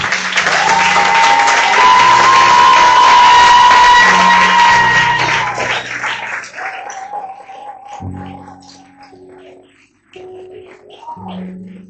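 A church congregation applauds and cheers, acclaiming God with loud, sustained clapping and shouts that swell and then gradually fade, while sung or drawn-out vocal tones carry over the crowd.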